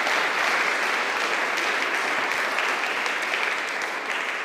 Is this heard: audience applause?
yes